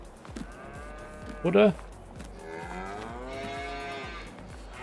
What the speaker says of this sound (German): Bei den Kühen.